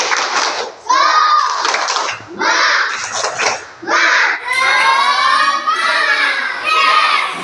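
A classroom of Indonesian children stands and performs the tepuk semangat chant, loud, shouted rhythmic syllables in quick bursts with claps mixed in, the whole group chanting together close by.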